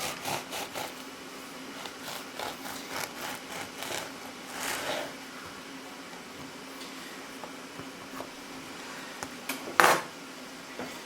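Two knives cutting bread for croutons, producing rhythmic scraping and sawing strokes with soft crunches and knife clinks, moderately close, with a sharper knock near the end.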